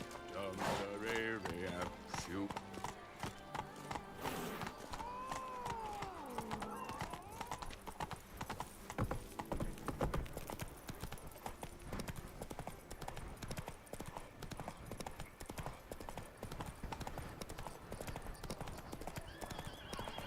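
In the Witcher 3 video game, a horse gallops with rapid, steady clip-clop hoofbeats that run throughout, and a whinny comes early over background game music and effects.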